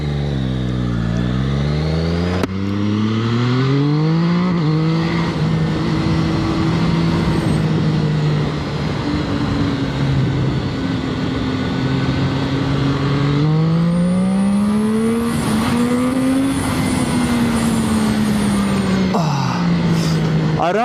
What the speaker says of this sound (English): So I open the throttle, you get this acceleration obviously